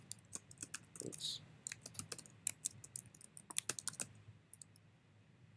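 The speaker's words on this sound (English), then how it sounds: "Let's type in a working password." Password being typed on a computer keyboard in quick bursts of close, crisp key clicks with short pauses, and a voice briefly speaks over the typing.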